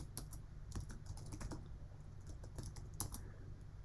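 Computer keyboard keys tapped in short irregular clusters, close and quiet over a low steady hum, with brief gaps between presses and no speech.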